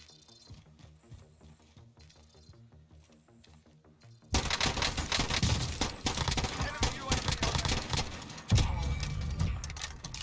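AN-94 rifle fire in a first-person shooter: after a quieter stretch of game sounds, a loud, dense barrage of rapid shots erupts and continues with clattering impacts, mixed with other gunfire.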